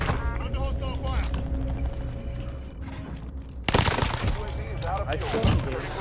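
Gunfire in a video game battle royale match, with steady clattering shots and mechanical noise giving way to a louder, denser burst of fire partway through, close and continuous.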